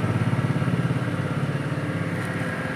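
The wash motor of a twin tub washing machine runs noisily with a steady, pulsing mechanical hum and faint clatter, heard close and alone.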